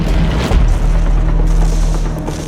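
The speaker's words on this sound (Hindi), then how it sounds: "यहाँ पर बारूद में आग लग गई और बहुत भयंकर विस्फोट हुआ" A massive explosion rumbles at an ammunition depot set ablaze by a Russian strike in the Russia-Ukraine war, a loud, sustained low booming roar with a sharper blast near the start, heard from a distance and without voices.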